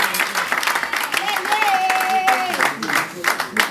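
Wedding guests applaud the groom, loud clapping mixed with crowd voices, and a high cheer or ululating call rising above the noise in the middle.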